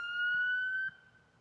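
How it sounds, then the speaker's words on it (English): A police siren sounds as a single loud, sustained tone close by, then cuts off abruptly near the end. "Turn the siren off for us."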